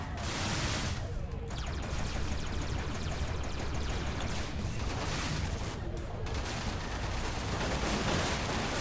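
Rapid, sustained gunfire from a turret in the space-combat game Everspace during an ambush in Sector 3, a dense and continuous burst of shots that stays loud throughout.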